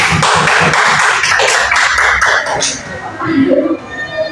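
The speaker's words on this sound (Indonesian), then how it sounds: "kasih tepuk tangan buat teman kalian." Classroom students clap for a classmate at a primary school, a dense burst of many small hands that thins out after a few seconds, with voices and crowd murmur mixed in.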